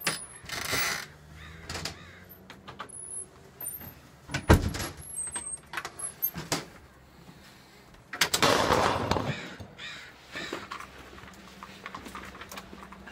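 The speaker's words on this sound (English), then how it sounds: "Maybe a crow just hit the window." Crows caw outdoors near a window in town, the calls fairly distinct amid scattered knocks, rustling and background noise across a long stretch.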